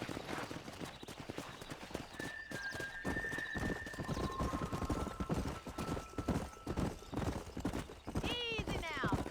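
Horses galloping in the video game Red Dead Redemption, rapid close hoofbeats under loud game music, with a horse neighing near the end.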